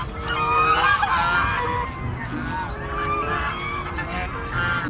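A goose in Jurassic World Evolution 2 honks in a string of close, loud, nasal calls over a few seconds, with no talking.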